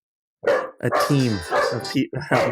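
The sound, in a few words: dog barking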